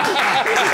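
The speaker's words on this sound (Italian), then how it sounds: "Applauso, applauso." Applause from an audience at a live show, a brief close burst of clapping, with voices mixed in.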